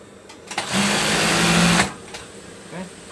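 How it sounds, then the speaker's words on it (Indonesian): Sewing machine stitching a duvet cover: a loud, close whirring run of rapid stitches lasting about a second, starting and stopping abruptly amid quieter handling noises. "dan selanjutnya dijahit."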